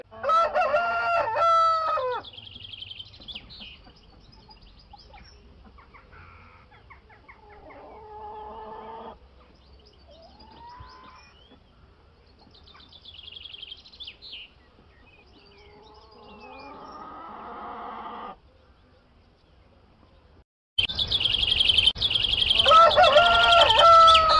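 Rooster crowing sound effect: a loud cock-a-doodle-doo opens the clip, followed by scattered quieter chirps and clucks, and a burst of buzzing, bright sound near the end.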